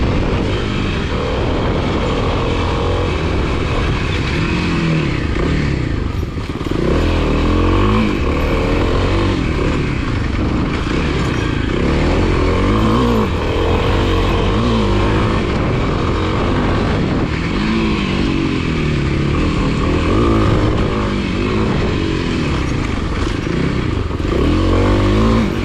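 A Kawasaki KLX300 dirt bike rips along a trail with a loud, continuous engine roar that rises and falls as the rider works the throttle. Wind and rough-ground clatter run underneath.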